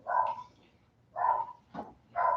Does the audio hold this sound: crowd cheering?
no